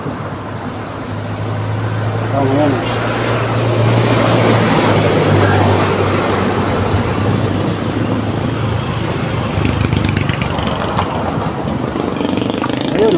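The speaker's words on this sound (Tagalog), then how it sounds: "Daming sasakyan na dumadaan." Road traffic rumbles past steadily, cars, motorcycles and buses going by one after another with engine drone throughout, while people talk briefly over it.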